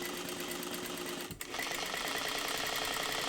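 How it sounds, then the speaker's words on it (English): A sewing machine stitches bias tape around a dress neckline sewn from a bedsheet, a steady fast mechanical whirr that pauses briefly and then resumes, close and alone. "you're going to sew around the entire neckline"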